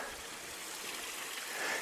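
Small stream running through a sheltered glen, a soft continuous rush and trickle of water heard close by, faint and steady with no voices.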